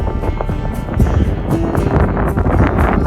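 Loud, gusty wind buffets the microphone beside an Arizona lake, a constant low rumble with irregular bursts and rustling and no voices.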